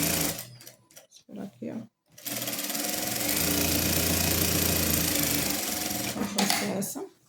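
Sewing machine stitching both sides of fabric for a headboard, a steady loud continuous whir running several seconds after brief talk and handling noises at the start.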